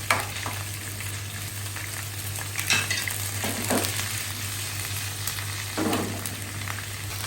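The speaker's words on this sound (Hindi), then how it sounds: "ये मैं खाली ज़ीरा इसमें ऐड कर रही हूँ।" Cumin seeds crackle and sizzle in a hot pan while daal chawal is cooked, a steady frying hiss broken by a few louder stirring scrapes, close and continuous with no talk.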